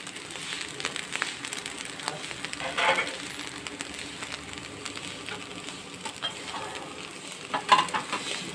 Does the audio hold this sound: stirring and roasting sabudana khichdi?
yes